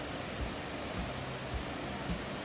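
The Nam Tok Phiu waterfall flows as a steady, dense rush of water noise that stays constant throughout, loud and close with no voices.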